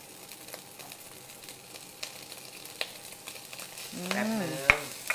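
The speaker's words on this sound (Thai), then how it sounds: "เดี๋ยวฉันจะใส่เนื้อลงไปผัดนะคะ" Beef stir-fried in a pan for teriyaki fried rice gives a faint, steady sizzle with a few sharp utensil taps, then a brief squeaky tonal sound near the end.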